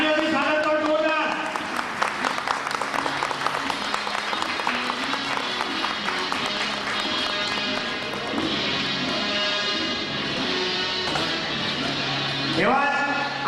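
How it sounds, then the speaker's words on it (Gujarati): Loud audience applause at a company welcome ceremony for Dhanwantari Distributors in Surat, greeting the firm's CMD. Dense clapping sounds over steady background music for the whole stretch, with no pause. "તાળીઓથી સ્વાગત કરો જોરદાર."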